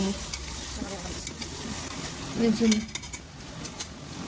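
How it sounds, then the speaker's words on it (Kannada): Chicken pieces go into a pot for green biryani and get stirred, with a steady broadband sizzle, a few spoon scrapes and clinks against the pot, and a brief louder stirring burst midway. "ಚಿಕನ್ ಹಾಕ್ಬಿಟ್ಟು ಅದನ್ನು ಇನ್ನೊಂದ್ಸಲ ಮಿಕ್ಸ್ ಮಾಡಿ"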